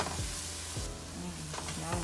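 Vegetables with Creole seasoning sizzle in olive oil for Cajun dirty rice, giving a steady close frying hiss with a few faint clinks and stirring noises.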